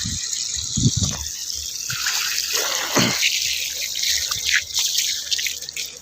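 Water from a motor-driven pump gushing out to water trees on a farm field in Thal, a loud, continuous rushing flow with splashing throughout.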